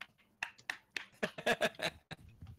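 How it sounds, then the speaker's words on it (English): Sharp slapping hits of a hand against one's own face, used as a stand-in for clapping, come in a quick irregular burst of about ten close, loud smacks. "I'm slapping myself in the face to clap."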